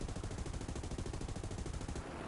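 Rapid, steady machine-gun bursts from a biplane's gunner position in War Thunder, the air combat game, rattling continuously and loud for a couple of seconds before easing off.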